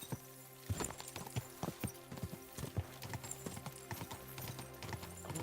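Horse hooves clip-clop steadily in the medieval video game Kingdom Come: Deliverance 2, a brisk irregular run of clear hoof strikes at moderate distance, heard alone without talk.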